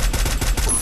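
Gunfire in Free Fire, a battle royale game: a fast, loud burst of repeated shots in tight rhythm over under a second, close and punchy with no talk.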